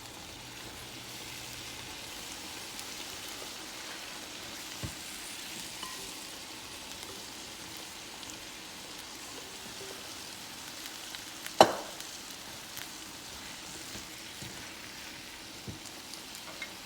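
Potatoes and tomato sizzle softly in a frying pan, a steady faint crackle with one sharp clatter partway through and no talking.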